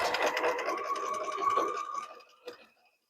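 A sewing machine stitches a blind hem on a summer dress, a fast buzzing run of stitches close by that slows and fades out, ending with a small click.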